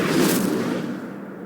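Incendio fire spell cast in a Harry Potter game, a single burst of whooshing, crackling flame that flares loudly at the start and fades within a second and a half, with no voices.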